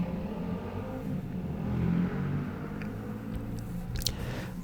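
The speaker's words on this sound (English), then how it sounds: "apologize once again, that was a motorcycle." A motorcycle passes outside at night, a low engine rumble that swells to a peak midway and then fades back into the background, heard alone without talk.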